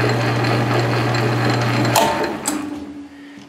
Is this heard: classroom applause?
no